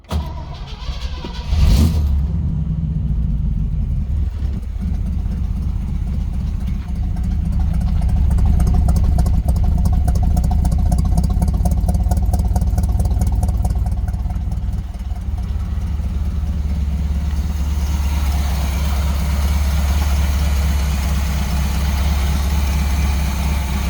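A 1964 Suburban's engine is cranked with the key, catches with a sharp burst and then settles into a steady, deep idle that continues at close range for the rest of the stretch, with no talking.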